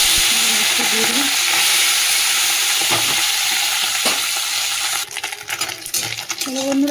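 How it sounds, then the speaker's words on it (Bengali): Puti fish dropped into hot oil in a kadai, producing a loud, continuous sizzle and crackle, with some utensil clatter near the end. "তেলটা তো গরম হয়ে গেছে, মাছটা দিয়ে দিই।"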